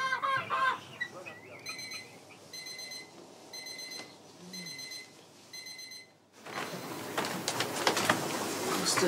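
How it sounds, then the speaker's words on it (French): A loud alarm clock rings in rapid repeating bursts in a farmhouse setting, with people talking and murmuring before and around it, and then a burst of busy noise afterward. "c'était une histoire de réveil qui sonne un petit peu trop fort"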